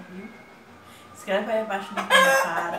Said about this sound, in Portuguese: Olha o galo cantando mesmo